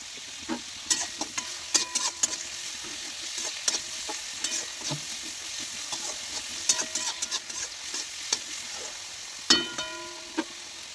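Chopped vegetables with cabbage and a pinch of salt sizzle in a pan for pasta, with steady frying hiss under frequent scraping and clinking stirs of a spatula, close up and without talk.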